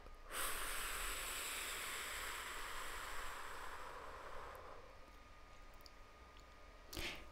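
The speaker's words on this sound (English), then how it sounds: "and breathe out." A long, soft breath out during a singing breathing exercise, a faint airy exhale lasting several seconds and fading, with a brief sharp sound near the end.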